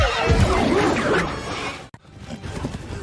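A horse neighing loudly and near in a scene from the film 47 Ronin, a harsh drawn-out whinny amid dense noise, breaking off abruptly before rougher snorting sounds follow.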